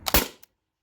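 T4E TR50 Gen 2 launcher firing a 7.6 gram, 12.3 mm steel ball: a single sharp crack with a quick burst and short decay, then a faint tick and silence, close and alone.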